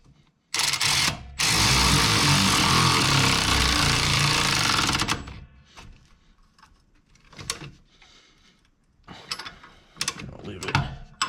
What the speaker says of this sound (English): because you do need a little bit of strength to tighten some of these bolts